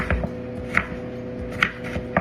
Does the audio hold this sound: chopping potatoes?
yes